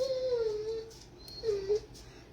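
A dog whimpers in two drawn-out, high whining cries with a short pause between them, close and fairly clear against a quiet room.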